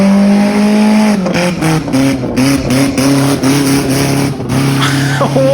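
A car with a loud, rough aftermarket exhaust drones close by, its engine note rising and falling through a series of short revs and shifts, with a higher whine near the end.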